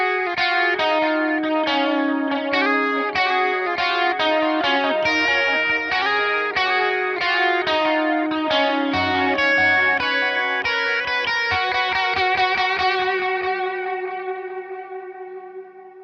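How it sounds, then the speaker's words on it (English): An electric guitar riff played through a delay effect with no reverb, bright distorted notes in a quick repeating pattern whose echoes trail off smoothly as the phrase ends. "There's no reverb on that. That's just the delay."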